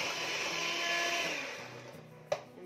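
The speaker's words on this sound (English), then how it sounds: "I'm going to give it another mix." An electric mixer whirs steadily through cake batter in a home kitchen, a continuous motor drone that eases slightly before a short knock near the end.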